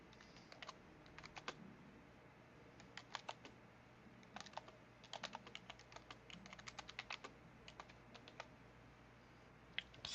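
Quiet typing on a computer keyboard, irregular bursts of light, sharp key clicks with short pauses between them, faint and close against a low background hum.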